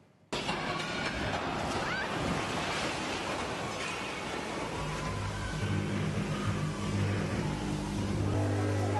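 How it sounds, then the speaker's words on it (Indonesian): Heavy rain driven by wind roars steadily and loudly at a shooting venue, a dense continuous wash with gusting rumble and no pauses. "Sebelumnya hujan deras disertai angin juga membuat venue digenangi air."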